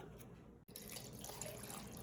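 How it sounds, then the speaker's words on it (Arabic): Water from a tap runs steadily into a pot of Lebanese stuffed cabbage rolls (malfouf) layered with garlic, a continuous close splashing broken by one brief pause. "بعد بدها مي بدي زيدها"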